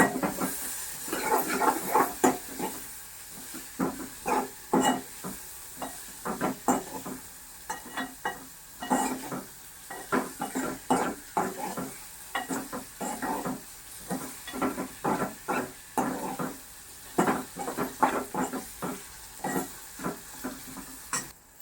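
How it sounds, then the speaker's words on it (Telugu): Cardamom and cloves with a small cinnamon stick sizzling in hot oil for a tomato egg curry: rapid crackling bursts and spatters in a busy, uneven rhythm over a hissing bed, close and fairly loud. "ఒక యాలక్కాయ, 2 లవంగాలు వేస్తున్నాను."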